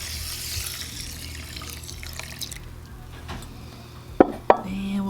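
Liquid poured over tapioca pearls to soak for Thai pork-stuffed saku sai moo: a close, continuous splashing pour that tapers off, followed by two sharp knocks of a container.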